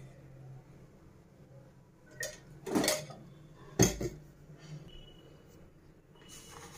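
A kadai pan set down on a stove with oil poured in, bringing two sharp metallic clanks of cookware close by over a quiet kitchen background, with fainter clatter later.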